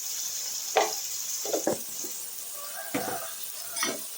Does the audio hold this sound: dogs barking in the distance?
no